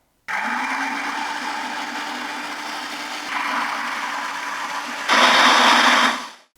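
A blender runs on low while blending a lemon Dijon olive oil dressing, starting abruptly into a steady whir that steps up in pitch and loudness twice before cutting off.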